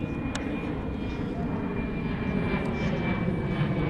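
Airplane passing overhead at an outdoor interview, a steady broad engine rumble holding through the whole stretch at moderate level, with no speech over it.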